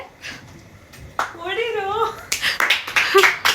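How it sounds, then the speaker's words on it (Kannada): A few cousins clap by hand for a child playing chef after cooking Maggi at home. A voice speaks first, then a short burst of scattered, uneven claps follows close by. "ಒಂದು ಚಪ್ಪಾಳೆ"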